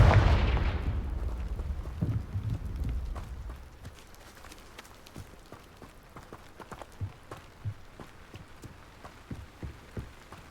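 A Confringo blasting spell in Hogwarts Legacy goes off with a loud, booming burst at the start, its rumble fading over a few seconds into scattered softer thuds and clicks.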